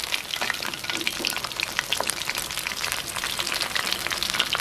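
Chana dal vadai, Jaffna-style lentil fritters, frying in hot oil: a steady, dense crackling sizzle with scattered bright pops, close and fairly loud throughout, with no voices.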